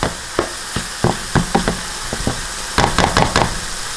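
Bacon frying in a pan for keto Thanksgiving cooking gives off a steady sizzle, broken by sharp utensil knocks against the pan, some spaced out and then a quick cluster near the end.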